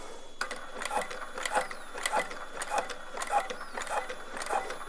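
A sewing machine stitching a decorative seam, fairly quiet, with a steady run of about eight evenly spaced mechanical bursts of rapid needle clatter, heard alone.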